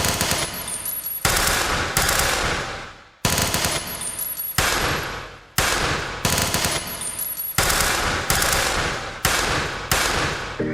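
Rapid bursts of machine gun fire, loud and close, in repeated volleys with brief gaps between them, no voices.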